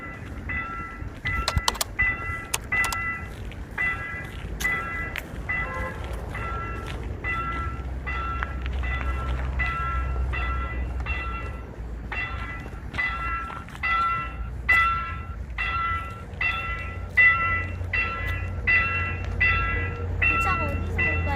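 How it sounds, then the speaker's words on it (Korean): A KTX-Eum train rolls through the Hapyeong level crossing on Gangwon's east coast near Hapyeong Beach. Its wheels beat a steady, rhythmic clatter over the rail joints for a long pass, with a deep rumble underneath and occasional voices. "기차가 어디서 올까요? 어느 쪽에서 와요?"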